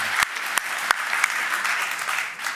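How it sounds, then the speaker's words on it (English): Audience applause after a talk on well-being, a sustained wash of many hands clapping at moderate level, with a few sharp individual claps popping out near the start. "I think all of us need to applaud that."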